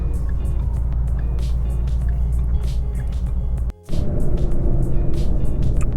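A 2011 supercharged Coyote Mustang with a 6-speed manual cruises on the road, a steady loud low engine drone heard from inside the car, broken by a brief dropout before the rumble returns slightly stronger.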